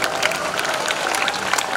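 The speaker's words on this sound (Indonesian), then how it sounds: "tepuk tangan buat Bapak Ibu guru" A school audience of teachers and principals in Biak gives a loud, sustained round of applause. The dense clapping fills the whole short stretch with crowd murmur underneath.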